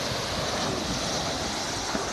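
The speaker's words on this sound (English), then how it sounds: "Let him surf the wave in." Ocean surf at Coral Cove washes steadily onto the shore. It forms a continuous broadband rush, fairly loud, with wind buffeting the microphone and no single break standing out.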